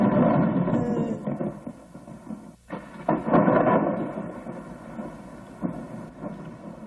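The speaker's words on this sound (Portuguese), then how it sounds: "Ih, vem uma tempestade aí, ó." A thunderstorm moving closer, with low rolling thunder rumbles that swell and fade over steady wind and rain noise, fairly loud and continuous, with no voices.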